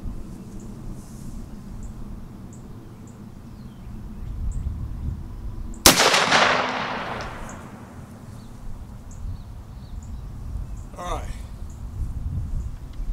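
A single sharp 20 gauge shotgun blast firing a load of fifteen number one buckshot pellets over a cork wad, loud and close outdoors, with a rolling echo decaying after it and birds calling faintly around it.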